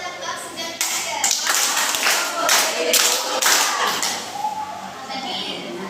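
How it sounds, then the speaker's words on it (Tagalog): Elementary schoolchildren in a grade 2 art class clap together in a few loud bursts of group claps, with children's voices talking around them. "Bigyan natin ng limang palakpak sa John Tiger"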